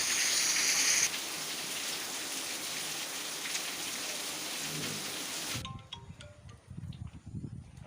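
Heavy downpour in the Bhupalpally district area near Buddharam on the Medaram route, a dense steady roar of rain drumming on surfaces that drops away abruptly near the end, leaving quieter patter.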